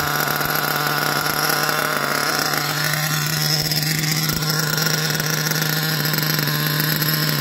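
A car's engine runs steadily at idle while the vehicle is raised on a lift, giving a continuous even drone with a fixed low hum and no revving, fairly close and without any voices.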